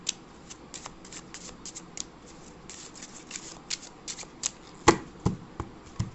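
Tarot cards are gathered and shuffled close up, giving a string of quick papery riffles and snaps in uneven bursts. A louder slap of the deck comes near the end.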